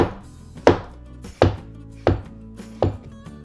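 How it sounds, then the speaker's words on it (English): Half a cucumber is sliced diagonally with a knife on a cutting board for a chef's salad, giving four separate, evenly spaced sharp chops, close and clear, with no voices. "And I'm going to cut up half of a cucumber for the salad."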